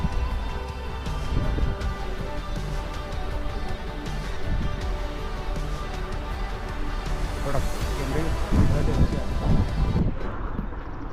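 Cold wind blowing steadily across a mountain road on the route from Rishikesh to Devprayag, a constant broadband rush with slow swells that runs the whole length and cuts off near the end, with faint voices beneath.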